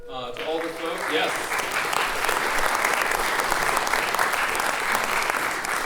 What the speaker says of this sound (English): She deserves her own round of applause.